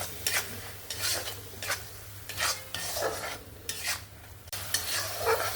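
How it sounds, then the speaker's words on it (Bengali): Spice masala with Kashmiri chilli powder is stirred and sautéed in oil for an egg curry, rhythmic scraping strokes of a spatula against the pan repeating every half second or so over a soft sizzle, close by. "এবার আমি ভালো করে মশলাটাকে কষিয়ে নেব।"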